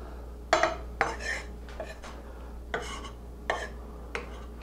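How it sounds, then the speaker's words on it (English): A knife mincing garlic on a cutting board while cooking Bolognese meat sauce, with about six sharp, separate chopping knocks spaced irregularly, close and clear over a low hum. "And you'll be able to mince a lot of garlic really,"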